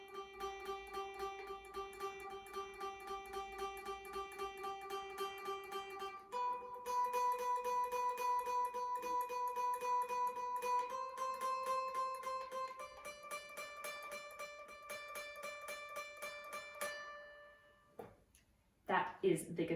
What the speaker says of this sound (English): That is the guitar solo.